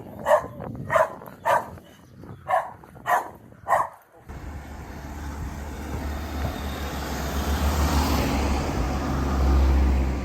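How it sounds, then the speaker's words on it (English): A dog barks repeatedly at close range on a walking path near Sorrento, then a cyclist and a following support vehicle pass, their engine and road noise swelling into a steady rumble that builds toward the end. "Guy on a bike's just gone by, followed by a support vehicle"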